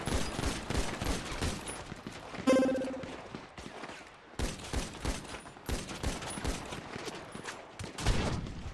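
Rapid bursts of gunfire from a 2v3 arena battle in the video game Prodigy 2.0, dense volleys of shots with a brief pause and faint voices in between.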